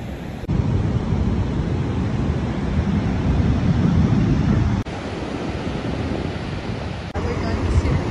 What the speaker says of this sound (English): We're going to the ocean.